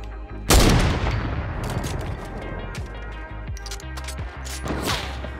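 Gunfire in the Fortnite video game, a loud burst of shots erupting near the start and followed by repeated, scattered shots and impacts at varying distances, with faint talk underneath.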